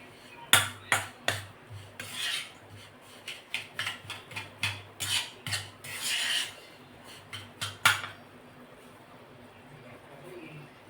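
A spoon scrapes and rasps through wheat flour and sugar in a bowl, a run of irregular close scraping strokes in bursts that fade out toward the end.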